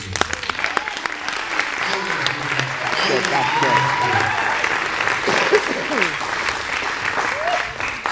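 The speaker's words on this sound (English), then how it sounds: "One more round of applause for John" A large audience applauds steadily for several seconds, a broad, sustained wash of many hands that swells and holds, with a few whoops and voices rising through it.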